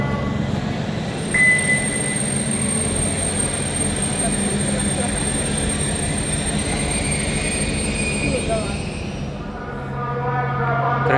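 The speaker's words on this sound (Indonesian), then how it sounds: "Kereta cepat G1275 baru saja masuk jalur 1 stasiun KCIC Padalarang." High-speed train G1275 rolls into platform 1 at Padalarang station with a continuous low rumble and wheel noise. A brief high squeal comes in early on, and the rumble swells again near the end.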